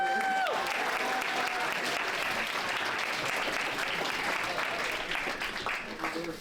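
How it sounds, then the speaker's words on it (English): A crowd at the BeachHacks 9.0 hackathon claps steadily in a dense, sustained burst of applause, with a few faint voices mixed in as it tapers slightly near the end. "Give a huge round of applause for yourself for getting through everything in the past 24 hours"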